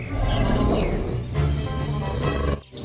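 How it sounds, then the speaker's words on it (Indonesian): A Carnotaurus roars in the video game Jurassic World Evolution 2: a loud, close, sustained growling roar with deep rumbling layers that holds steady for over two seconds, then drops off abruptly near the end, with no talk over it. "Ini adalah Carnotaurus."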